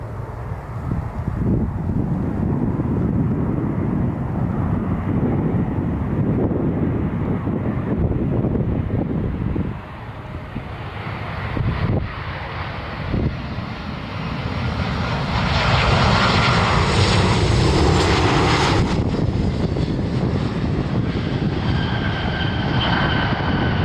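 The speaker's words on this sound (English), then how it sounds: "Southwest Flight 2140 inbound from Midway." Southwest airliner arriving at Cleveland airport: a loud, sustained jet-engine roar that swells and whines as the plane passes near, with no talking.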